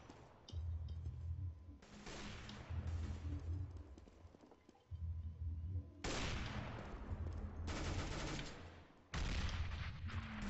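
Repeated bursts of automatic gunfire in CS:GO, loud and close, coming in several long volleys with short pauses between them and no talk over them.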